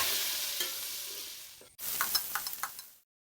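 Cubed onion and capsicum are stirred in a hot pan, giving a loud sizzle that breaks off briefly, then returns with several spatula scrapes and taps before cutting to silence.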